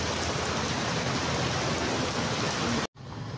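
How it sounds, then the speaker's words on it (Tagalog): Heavy rain pours in a steady, dense roar, with a brief cutoff near the end before the downpour resumes. "Grabe ulan, no?"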